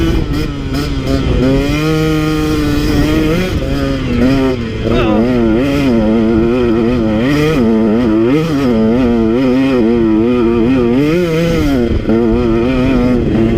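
KTM 150 XC W two-stroke dirt bike engine screaming at high RPM, rising and falling in continuous loud revs as the throttle is worked, close and unbroken throughout.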